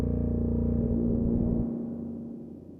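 Moog Grandmother synthesizer playing a sustained sine wave tone, a smooth steady pitch with a warm low body that softens and fades after about a second and a half, heard alone.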